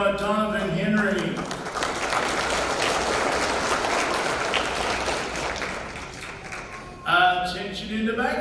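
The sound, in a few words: applause at awards banquet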